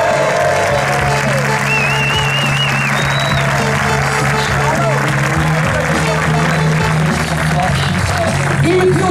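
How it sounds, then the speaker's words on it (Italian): Crowd applause welcoming football player Mohamed Rabas at an Union Clodiense celebration after a win at Feltre, a dense steady wash of clapping mixed with whistles and voices, with an announcer speaking over it. "vogliamo accogliere con un grande applauso di ringraziamento Mohamed Rabas"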